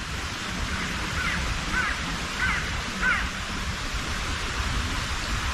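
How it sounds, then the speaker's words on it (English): Several crows caw at night outdoors in pitch-black surroundings, a short series of harsh calls at moderate distance over a constant hiss of background noise. "Crows are going nuts again."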